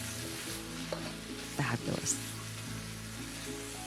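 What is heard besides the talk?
cabbage slaw sizzling while warming in pan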